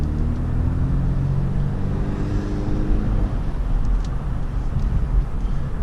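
Steady road traffic rumble in Pittsburgh, heard from inside a car: a continuous low engine and tire drone with passing-vehicle swells, loud and even throughout, no voices.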